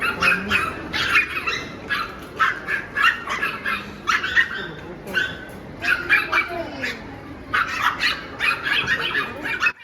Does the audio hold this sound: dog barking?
yes